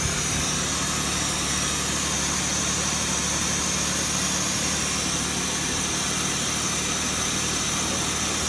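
The engine of a 1967 Jaguar idles with a steady, dense, unbroken rumble, loud and close, with no voices over it.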